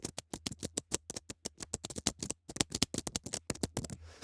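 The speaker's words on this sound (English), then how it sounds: "there's a scene where somebody's typing on their keyboard" Close-up keyboard typing from the UVI Click sound-design plugin: quick, crisp key clicks in irregular bursts with brief pauses, dry and isolated.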